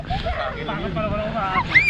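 A dog at a farm whimpering and letting out a short high yip near the end, brief and close, mixed in with people talking.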